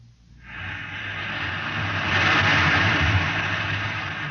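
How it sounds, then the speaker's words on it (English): A rocket reactor engine in a test chamber roars up from silence into a loud, broad, steady rush of gases that swells and holds. "You can hear the roaring of the gases in the test chamber behind me."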